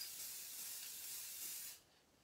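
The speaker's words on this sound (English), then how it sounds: "So I'm just going to spray this on." Spray adhesive hisses from an aerosol can in one continuous burst of nearly two seconds, close and fairly quiet, then stops.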